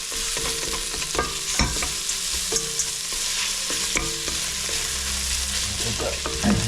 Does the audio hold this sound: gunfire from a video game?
no